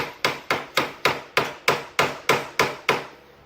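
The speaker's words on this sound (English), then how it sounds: "Let me get my hammer. Sometimes you got to hit the side of it." Ten sharp hammer blows strike the side of a part on a 2009 Yamaha Grizzly 700 at a steady, even rhythm. Each metallic knock rings briefly, close up and alone.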